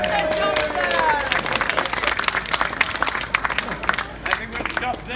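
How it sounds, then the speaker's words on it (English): An audience at a stage comedy performance about Dr. Johnson breaks into lively applause mixed with crowd noise and voices, the clapping busy and uneven before thinning out. "A round of applause for Dr. Johnson."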